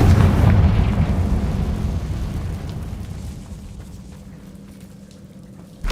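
The Confringo blasting spell in Hogwarts Legacy goes off as a heavy, deep boom at the start, then fades into a long rumbling roar over several seconds.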